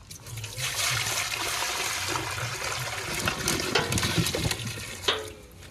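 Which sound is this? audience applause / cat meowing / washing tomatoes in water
washing tomatoes in water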